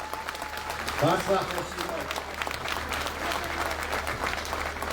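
Crowd applauding at an election campaign rally in Gyumri, a broad wash of clapping from many people that swells and holds steady throughout, with an amplified voice speaking over it.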